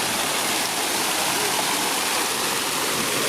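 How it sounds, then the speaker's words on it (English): A downtown Toronto fountain in the St Lawrence neighbourhood splashes in a loud, dense, unbroken rush of falling water, close by and steady throughout, with no voices. "definitely one of my favorite fountains in the city"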